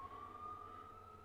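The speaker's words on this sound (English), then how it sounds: "outside there's a police siren going on" A faint police siren outside holds a steady wailing tone for a brief moment, distant and low against a quiet room.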